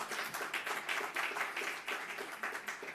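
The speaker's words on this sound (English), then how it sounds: "You get a round of applause too, Josh." An audience at a mayoral event unveiling an early education institute applauds Josh Wallach, with steady, dense clapping that holds at an even level for the whole stretch, no voices standing out.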